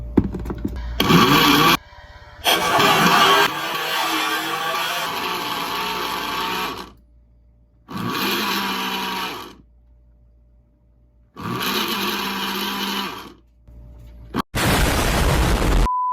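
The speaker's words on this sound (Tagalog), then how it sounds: "So, be-blender na natin siya here." A blender whirs loudly, blending pancake batter in several bursts, starting and stopping with quiet gaps between runs, close up.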